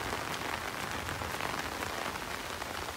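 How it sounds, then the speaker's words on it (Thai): Heavy rain pours down steadily, a dense, even hiss of drops hitting surfaces nearby, with no voices. "ฝนตกหนักมากเลย"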